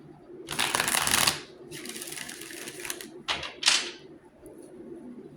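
Tarot cards being shuffled by hand in several quick riffling bursts, two longer ones followed by two short ones, close and crisp with quiet pauses between.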